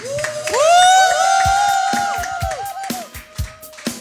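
Church congregation cheering and acclaiming Jesus in a loud burst of shouts, whoops and high voices that swells over the first seconds, then tapers into scattered calls and claps.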